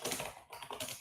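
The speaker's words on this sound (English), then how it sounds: "I'm using Shift Enter to keep typing" Rapid typing on a computer keyboard, dense irregular key clicks close to the mic, continuous with no pauses and no speech.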